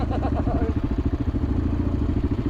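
Off-road on a Moroccan rally track, a borrowed motorcycle's engine keeps up a loud, even rumble with rhythmic low pulsing, and a voice is faintly present beneath it.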